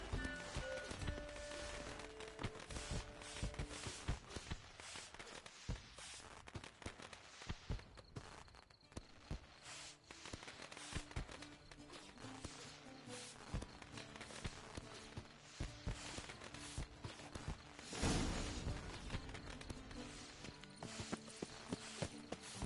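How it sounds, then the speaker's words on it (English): Horses' hooves clip-clop in rapid, galloping rhythm in The Witcher 3 video game, a dense run of quick strikes, fairly close, with a brief louder burst near the end and no talk. "Saddled horses await in the stables."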